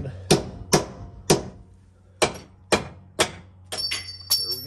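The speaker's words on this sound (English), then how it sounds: "so I've just got a chisel and a big hammer here" A big hammer strikes a chisel against the steel frame of a 2018 Grand Design trailer while cutting out a broken leaf spring hanger: seven or so sharp, close, ringing metallic blows at uneven intervals, with no talking.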